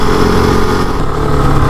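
Kove 450 Rally motorcycle being ridden on a dirt trail at around 70–80 km/h, its single-cylinder engine droning loud and close with a steady throbbing note, alone without talk.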